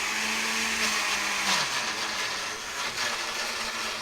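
Blender whirring at full speed as it purees a bacon aioli of mayonnaise and Dijon mustard for burgers, a steady loud motor whine whose pitch drops briefly midway before holding on.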